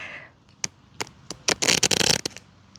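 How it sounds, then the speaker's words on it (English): A deck of tarot cards is shuffled close by: a few sharp taps and flicks, then a dense, papery riffle burst lasting about half a second before a final snap. "Oh, that was not a good shuffle."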